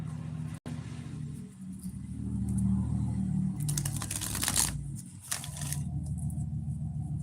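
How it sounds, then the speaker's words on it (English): A loud truck rumbles past nearby, a deep engine growl swelling mid-clip with rattling and scraping noise before fading, heard without talk. "okay, this loud truck."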